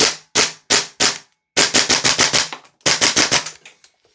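An airsoft MCX rifle fed from a Tokyo Marui MWS magazine fires close by, four single shots followed by two rapid bursts of sharp cracks with short gaps between them.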